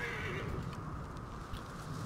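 A horse whinnies in Assassin's Creed Origins, a short, strained neigh at the start over a steady low game-world rumble, followed by faint hoof clatter.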